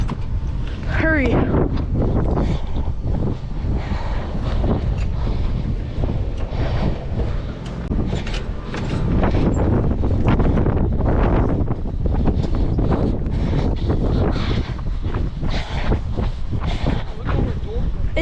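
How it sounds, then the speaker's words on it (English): Strong wind sweeps across a school roof, roaring and buffeting the microphone in loud continuous gusts, with brief voices in the mix. "It is so windy."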